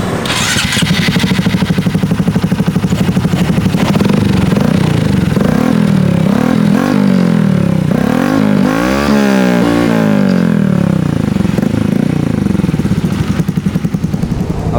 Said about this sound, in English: let you hear the engine, let you hear the exhaust